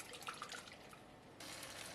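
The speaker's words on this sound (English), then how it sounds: "I am pouring about 200 ml of coconut milk in the blender to dissolve most of it" Coconut milk, about 200 ml, is poured into a blender holding leftover curry paste for a fish head curry, giving a soft, steady liquid splash that carries on faintly with no talking.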